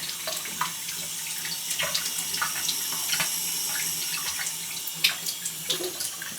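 Hot water leaking from a Delta shower faucet, a steady close hiss of running water with irregular splashing drips and spatters on top.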